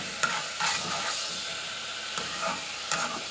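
Chicken karahi frying in a pan, a continuous close hiss and sizzle broken by a few scraping stir strokes at uneven intervals, fairly quiet and with no voices.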